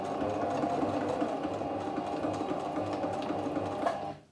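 A sewing machine runs continuously, stitching a tote bag handle and finishing with a small back stitch, a close steady mechanical hum that stops abruptly at the end.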